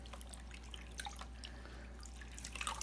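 Faint water drips and trickles while a child's hair is washed, with soft irregular splashes over a low background hum. The sound is quiet and close, with no clear talking.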